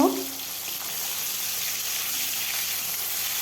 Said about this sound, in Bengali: সরিষার তেল দিয়ে দিলাম মাছের মাথাগুলো এখন ভেজে নেব